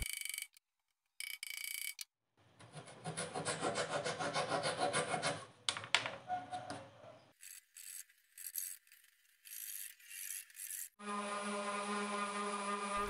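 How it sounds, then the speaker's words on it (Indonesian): Scratchy sanding on the wooden frame of a TV cabinet in stretches of close back-and-forth strokes, broken by several abrupt cuts and pauses, with a mechanical hum near the end. "Kemudian saya amplas keseluruhan bagian frame."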